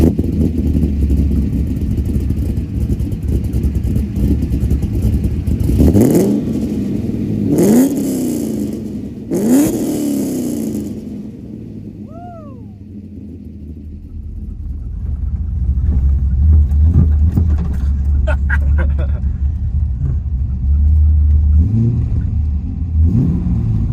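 A 1999 Camaro SS with a lopey aftermarket cam runs in a loud, close idle, blipped through several sharp revs before it settles back into a deep, rumbling, uneven lope. There is no talking.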